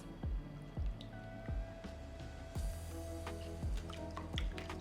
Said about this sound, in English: So in goes my eggs.